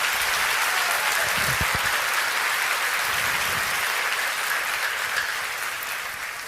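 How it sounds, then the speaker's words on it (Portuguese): A church congregation applauds steadily during a sermon, a dense and sustained wash of many hands clapping that holds for several seconds before starting to taper off. "Se é para Jesus, você pode aplaudir"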